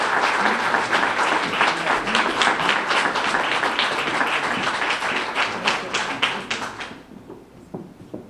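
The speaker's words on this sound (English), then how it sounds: "Give them a round of applause." Audience applause at a school awards ceremony honoring the most improved school, loud dense clapping from many hands sustained for several seconds before thinning out and fading near the end.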